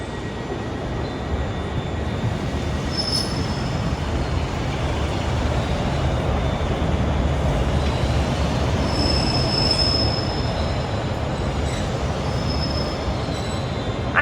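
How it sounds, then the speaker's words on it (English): A Scotrail diesel multiple unit from Kilmarnock pulls into the platform at Glasgow Central, a steady loud rumble of rolling wheels with intermittent high metallic squeals of wheels on the rails as it slows. "Arriving now is the 1017 Scotrail service, terminating here at Glasgow Central from Kilmarnock"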